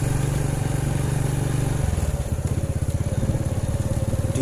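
A motorcycle engine rumbles steadily while riding at night on a road still wet from light drizzle, the low throbbing pulse shifting midway as the pitch changes, with no voices over it.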